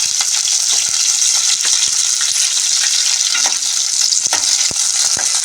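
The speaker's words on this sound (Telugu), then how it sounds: "ఇప్పుడు ఆయిల్ హీట్ ఎక్కింది కదండి పచ్చిమిర్చి వేసుకున్నాను" Green chilies fry in hot oil with a steady, loud, continuous sizzle and crackle, broken by a few sharp pops and faint clinks of a stirring utensil, with no talking.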